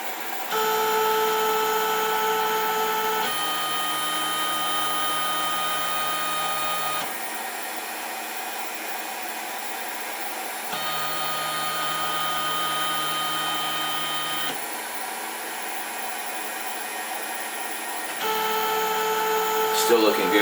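A Snapmaker 2.0 CNC tool head travels the job boundaries, its stepper motors whining in steady tonal drones that shift pitch and level in distinct segments as the axes change direction. A voice talks over the motors.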